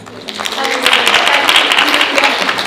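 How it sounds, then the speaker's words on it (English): Audience applause at a community show, a steady dense wash of clapping that swells after the first second and holds loud through the end, with a voice faintly mixed in. "Give her a round of applause"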